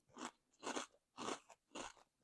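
Spicy Mac's pork rinds being crunched and chewed up close: four distinct, crisp crunching bites in an even rhythm, each a short crackly burst with quiet gaps between.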